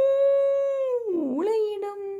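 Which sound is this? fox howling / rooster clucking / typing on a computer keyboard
fox howling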